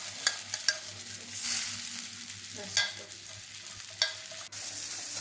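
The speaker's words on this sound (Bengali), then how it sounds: "তারপরে আমি আরেকটু বাটার দিয়ে সেওইগুলোকে একটু ভেজে নেব।" Sevai vermicelli frying in butter in a pan, a steady low sizzle broken by occasional scraping stirs and light clinks, close and quiet, with no one talking.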